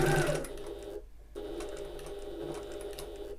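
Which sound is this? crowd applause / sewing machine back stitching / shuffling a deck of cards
sewing machine back stitching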